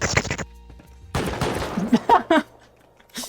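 Automatic turrets inside a base in the game Rust fire in rapid bursts, broken by short gaps, loud and close, with excited voices reacting between them.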